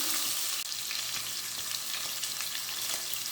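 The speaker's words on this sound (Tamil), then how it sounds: "அந்த எண்ணெயில் வறுத்துடலாம்." Mutton kheema balls frying in hot oil, a continuous bright hiss and crackle of sizzling, steady and close, with faint stirring scrapes underneath and no talking.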